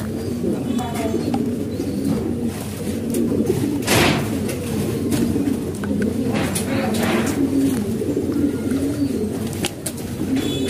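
Pigeons coo in low, repeated, overlapping bursts at close range while someone talks over them throughout, with a few sharp clatters in between.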